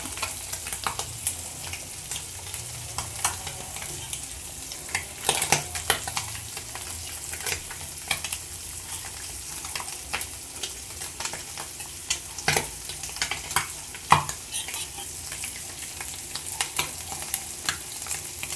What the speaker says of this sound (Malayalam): തിളച്ച് അപ്പോൾ അതിലേക്ക് നമുക്ക് മീനെ ആഡ് ചെയ്യാം.